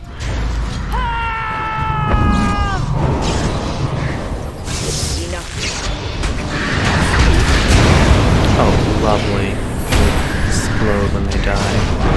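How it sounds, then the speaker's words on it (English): A barrier is destroyed by an explosion in the video game Dragon Age Origins, a modest boom with mechanical clanks and rumbling, layered under game music and character voices. "not a large, powerful explosion"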